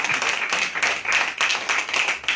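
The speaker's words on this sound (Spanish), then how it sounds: "Un aplauso al Señor, vamos a darle" A church congregation claps together during a worship service, a dense, steady wash of many hands that swells and dips in waves, moderately loud with no talking over it.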